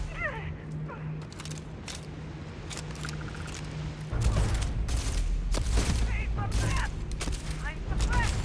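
Gunfire from a firefight in the Starfield video game, a dense stream of sharp shots and booms that grows louder and heavier midway, with voices talking over the shooting.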